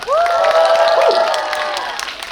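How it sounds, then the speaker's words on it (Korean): A theatre crowd at a film stage event applauds and cheers as the cast and director walk in, loud clapping mixed with shouts and a few high whistling or squealing voices, sustained and close. "영화 내 안의 그놈의 주역들 큰 박수로 맞이해 주시죠"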